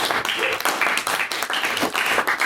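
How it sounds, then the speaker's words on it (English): An audience at a debating workshop claps for a speaker in a brief, moderately loud burst of applause with uneven, choppy swells, all in a room. "Round of applause for the speaker."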